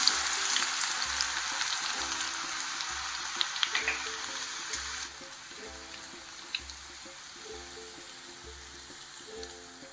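Coarsely ground garlic hits hot oil for lemon pickle with a loud, crackling sizzle that runs strong for about five seconds, then drops to a softer, steady bubbling with occasional pops.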